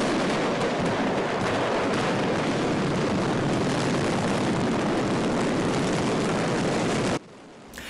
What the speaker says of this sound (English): An explosion rocked a fireworks factory in South America.